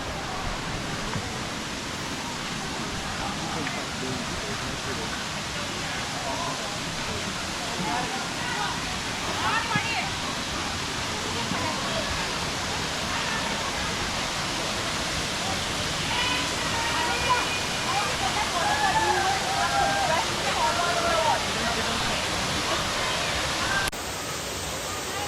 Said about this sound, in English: I think we found the waterfall.